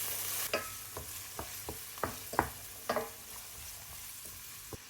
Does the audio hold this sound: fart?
no